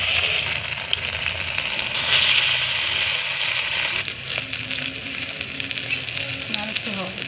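Oil spits and sizzles in a kadai in a village kitchen where small crab-brain fritters are being made. The frying hiss is loud and continuous, shifting in tone partway through as pieces settle in, with faint utensil knocks near the end and no talking.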